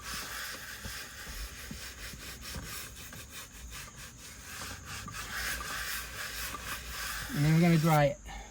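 A brush scrubs cleaner into a leather car seat armrest with steady rapid rubbing strokes, close and continuous, ending with a brief louder burst of a different noise.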